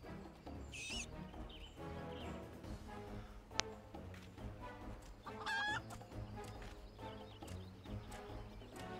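Chickens clucking in Final Fantasy XIV, repeated nearby clucks and squawks with a few sharp bursts, set against a soft festive music bed.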